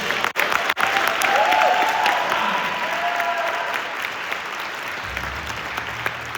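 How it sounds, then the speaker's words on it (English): A high school honor band's audience applauds, a broad wash of clapping that swells early and slowly thins, with a cheer or two rising above it. "Give them a round of applause, yes"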